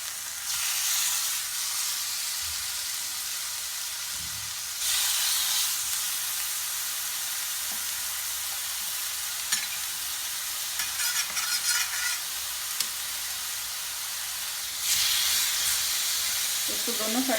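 Chicken fillets searing on an oil-greased pan for shawarma, a strong hissing sizzle that surges in loud waves and eases between them, with faint scraping and brief soft talk.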